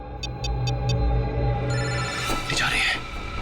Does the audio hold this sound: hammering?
no